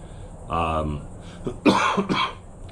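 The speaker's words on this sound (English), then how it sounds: "still have a little bit of COVID cough here." A short hum of a voice is followed by a couple of rough, close coughs and throat clearing from a lingering COVID cough.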